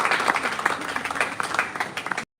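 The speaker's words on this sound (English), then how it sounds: "Applause again." Conference audience applauding with dense, steady clapping throughout, fairly close and moderately loud, then stopping abruptly at the end.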